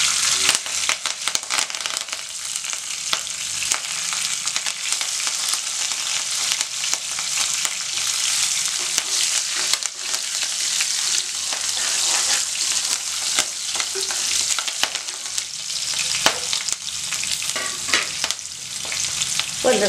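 Sliced ginger and cut green chillies frying in hot oil in a pan for coriander chutney, a steady loud sizzle with crackling pops and occasional stirring scrapes, no voices.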